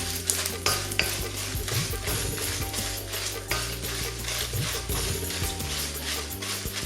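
Dried red chillies frying in about two spoons of oil in a pan, a steady close sizzle with repeated scraping and stirring strokes throughout, no voice over it.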